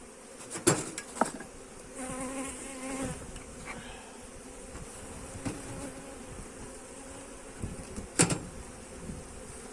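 A soft, constant hum of many honeybees at an opened hive in cold weather, with a few sharp knocks and clicks of hive frames standing out close by.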